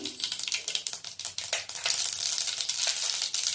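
Mustard seeds hit hot oil in a steel pot with a bright crackling sizzle, sharp pops scattered over a steady frying hiss, close and fairly quiet.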